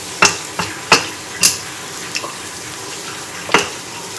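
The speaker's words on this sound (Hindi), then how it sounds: "हम इसको ऐसे मिक्स करेंगे।" A shami kebab mixture being stirred together with chopped onion and crushed green chilies, making a few scattered soft clacks and scrapes against the bowl spaced out over a few seconds.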